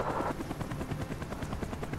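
A helicopter in Call of Duty: Black Ops, its rotor thumping in a fast, steady rhythm, close and prominent with no talk over it.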